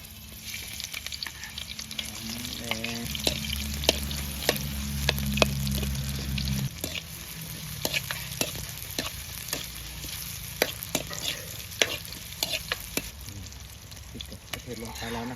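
Hot oil in a wok sizzles and crackles steadily as food is stirred, with a heavier frying rush early that settles into lighter spitting and scattered clicks of a utensil against the pan.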